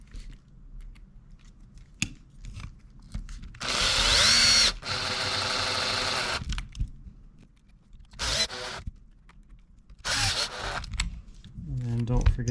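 Power driver with a 2.0 bit whirring screws into a Kyosho 1/8 scale RC kit front end during assembly, in a few short bursts separated by quiet gaps, with small parts clicking and a person speaking.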